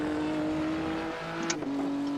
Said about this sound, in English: Car is too loud.